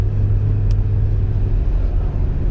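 Turbocharged V12 engine in a Toyota Cressida roars loudly and steadily at close range as the tyres spin, with a deep constant drone and a brief high squeal partway through.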